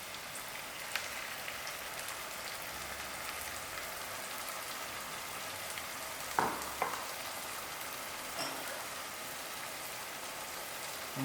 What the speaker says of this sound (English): now I'm going to throw in my grated tomatoes.